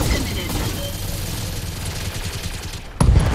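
Sustained weapons fire from a mech in an urban warfare combat video game, a dense rumbling barrage running steadily and loudly, then a sharper burst near the end.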